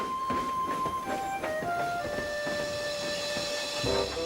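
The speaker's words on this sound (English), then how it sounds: "Percy watched Thomas and the circus slowly chuff away." A steam locomotive pulling a circus train chuffs steadily away amid hissing steam and rumbling, with a sustained whistle-like tone running over the noise.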